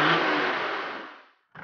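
A car engine fitted with a special aftermarket turbo revs loudly and close, the roar fading away over about a second before cutting out briefly and picking up again.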